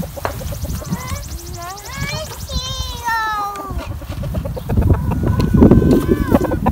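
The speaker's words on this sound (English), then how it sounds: "I want to let the chickens out." Chickens cluck and squawk close by as they are let out of their coop, with voices of adults and children talking over them and rustling movement toward the end.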